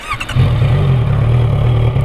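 Honda CB650F motorcycle engine fitted with an IXIL SX1 exhaust and its baffle, idling with a steady, loud, deep burble that holds throughout after a short opening rise.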